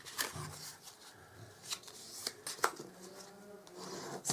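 Paper is concertina folded into a deep gift wallet, giving soft rustles, creases and scattered crisp taps close by, with quiet pauses between the folds.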